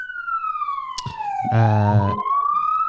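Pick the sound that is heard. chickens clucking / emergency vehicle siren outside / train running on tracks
emergency vehicle siren outside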